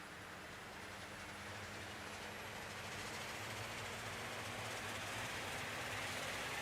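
Turboprop engines of a Dash 8-Q400 spool up in X-Plane 11 as a steady, quiet broadband whine with a low drone, building slightly in strength throughout.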